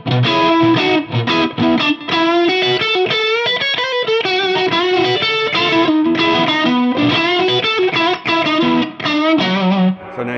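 An electric guitar plays through a pedal set in glass mode, with the king tone switch in bypass. It delivers a continuous run of loud, slightly distorted blues phrases with chords and single notes, and no talking over it.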